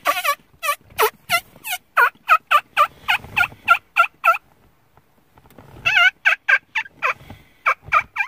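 A man imitates turkey gobbles using only his cupped hand, nothing in his mouth: rapid bursts of sharp, yelping gobble notes in quick series, a pause, then another loud close run of calls.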